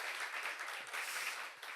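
A congregation at a Korean church youth service breaks into applause, a dense, steady wash of clapping that fills the room.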